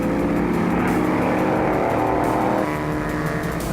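Historic race cars lap a circuit, their engines roaring together in a loud, sustained snarl, with one engine note shifting pitch as the cars pass.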